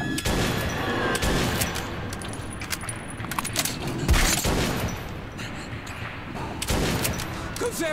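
Gunfire in the Metro 2033 video game rattles continuously amid dense game noise and scattered impacts, with a few sharper blasts standing out along the way.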